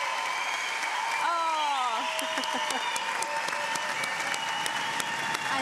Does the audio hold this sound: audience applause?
yes